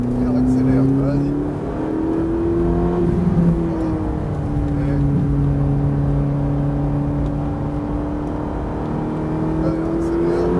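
A Ferrari 458 accelerating with its engine revving, a loud, sustained drone that climbs and settles in pitch, heard from close by with voices talking over it.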